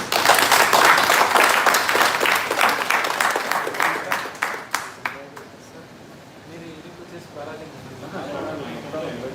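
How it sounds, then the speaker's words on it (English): An audience claps together in applause that thins into scattered individual claps, fading out partway through before murmured room noise takes over. "So let us clap for ourselves."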